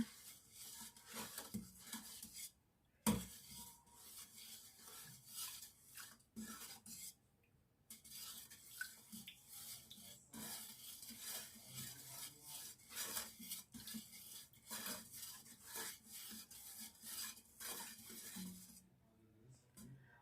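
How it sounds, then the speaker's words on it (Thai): A utensil stirs dandelion honey syrup in a pot over low heat, giving a faint, continuous scraping and rubbing with occasional light clinks against the pot for a long stretch. "คนไปเรื่อย ๆ อย่างนี้นะคะ"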